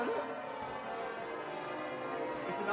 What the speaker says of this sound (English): What is it with the bells?